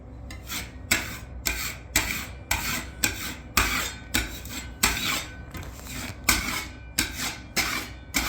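A spatula scraping drywall compound on a wall during a repair, a rhythmic series of close rasping strokes about once a second, each a short gritty scrape, with no speech.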